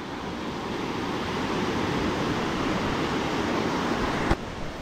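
Water rushes under pressure at Bhatsa dam near Shahapur, a loud, steady roar of broadband noise, close and continuous, with one brief sharp knock near the end.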